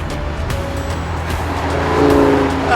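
A Lamborghini Huracan Spyder engine hums steadily on the move, a loud close drone that builds slightly toward the end, with tire noise underneath and no talking.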